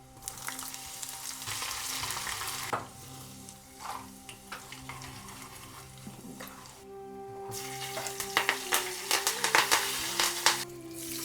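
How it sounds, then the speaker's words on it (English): Mustard seeds, chana dal, cashews, green chilies and ginger tempering in hot oil in a pan, a steady close sizzle and crackle with bursts of popping and occasional stirring, no talk. "So for the seasoning, I have mustard, chana dal, cashews, some chopped green chilies,"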